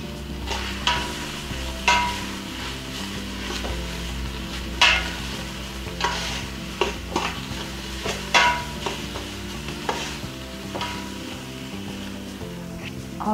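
Kale sautés in olive oil and butter seasoned with salt and black pepper, a soft sizzle broken by repeated sharp clanks and scrapes of a utensil stirring against the pan, with no voices.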